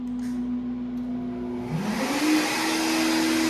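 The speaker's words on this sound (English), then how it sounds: "And then we're gonna turn the spindle on." A small CNC machine spindle starts up, a steady tone rising in pitch around the second mark and settling into a continuous broadband whir with hiss, near and alone.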